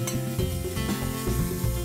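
Marinated meat for a paratha roll sizzles on a hot plate, giving a close crackling hiss mixed with stirring, while a tonal musical backing runs underneath the whole time.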